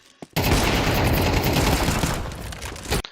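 Rapid, sustained bursts of gunfire in the video game map Dust2, loud and dense, running for nearly three seconds without a break.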